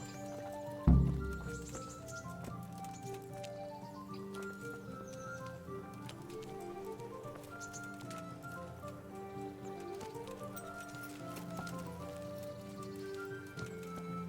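Horse hooves clip-clopping in the medieval RPG Kingdom Come: Deliverance, a steady gait running throughout under a continuous musical score, with one loud thump near the start and a possible faint whinny.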